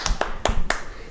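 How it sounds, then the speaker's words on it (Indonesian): Audience asked to clap during an event, a few separate sharp claps spaced evenly over about a second, close and fairly loud with no talking. "Tepuk tangan dulu dong."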